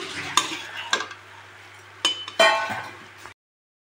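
Ginger, garlic, black pepper and cumin paste stirred in a pan for a fish dish: several distinct scraping strokes and metal clinks over a faint sizzle, ending in silence.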